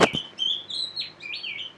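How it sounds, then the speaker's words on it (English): Birds chirp and tweet close by, opening with two sharp calls and then a string of high whistled notes in uneven bursts, with no talking over them. "Wow, the birds are chirping today, huh?"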